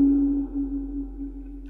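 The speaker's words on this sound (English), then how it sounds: "after this bing, that already gives you the illusion of being underwater" A submarine sonar ping rings out as a single steady tone that sustains and slowly fades with a reverberant tail, with a low hum underneath and a brief soft sound at the end.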